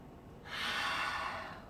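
A single long, slow breath during a yoga session, soft and close, swelling to a steady airy rush and then easing, with no talk.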